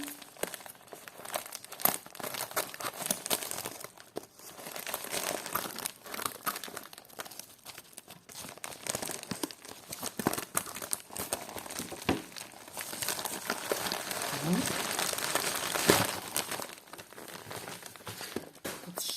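Soft plastic padded mailer bag from an eBay parcel of vintage jewellery crinkles and rustles through unboxing, steady close-up handling noise with brief tearing-like bursts and no talk.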